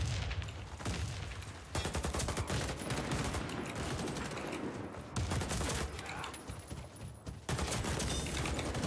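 Rapid AK-103 rifle hip-fire bursts in the shooter game Warface, loud dense automatic volleys broken by a few brief pauses, with a voice faintly underneath.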